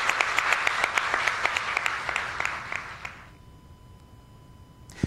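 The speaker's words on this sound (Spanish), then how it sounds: "Aplausos." An audience applauding after an apology from the Ecuadorian state, a dense crowd clapping loudly for about three seconds before it fades quickly into room tone, with a final sharp clap at the end.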